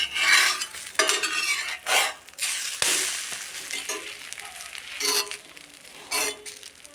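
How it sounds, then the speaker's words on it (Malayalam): Egg frying with grated coconut in a pan on a gas stove, crackling sizzle mixed with scraping and stirring of a spatula against the pan, close and uneven, no voices. "ഞാനിവിടെ തേങ്ങ ഇട്ടാണ് മുട്ട പൊരിക്കുന്നത്"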